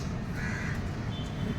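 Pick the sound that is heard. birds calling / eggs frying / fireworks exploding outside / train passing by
birds calling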